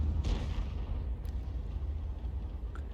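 Deep, rumbling boom of an artillery shell fired at a tank in World of Tanks, a heavy low blast near the start that rolls on as a sustained rumble, with no voices.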